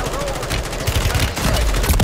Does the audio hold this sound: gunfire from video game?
yes